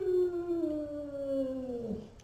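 Sleeping puppy letting out one long, wavering howl that slides downward and breaks into a short whimper at the end, close and clear with no talk.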